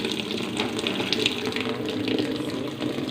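Water runs steadily into a washing machine as it fills slowly, a continuous hissing rush that stays close and even throughout.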